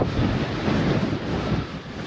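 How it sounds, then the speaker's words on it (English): Strong wind buffeting the microphone on an exposed hilltop along the South Downs Way near Ditchling Beacon while cycling, a loud continuous roaring rumble with no speech. "it's definitely a lot windier up here"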